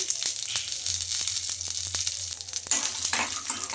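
Chillies, dal and peanuts fry in hot oil in a pan for rava dosa preparation, giving a steady close sizzle with scattered crackles and light stirring ticks throughout, no talk.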